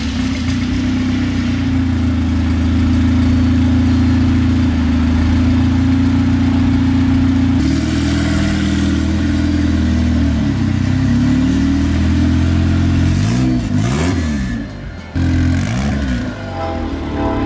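A turbocharged Honda Civic engine idles loud and close, then revs in several rising and falling bursts toward the end, with a steady low rumble throughout.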